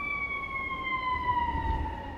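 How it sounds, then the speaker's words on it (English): An emergency vehicle siren on a busy street wails in a steady, slowly falling tone, moderately loud and a little distant, over low traffic rumble, with no talking. "Bear with the siren."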